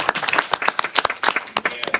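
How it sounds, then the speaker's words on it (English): An audience at a speaker-series event gives a round of applause, heard as close, loud, irregular claps from a smaller group mixed with voices, lasting about two seconds. "So yes, a round of applause."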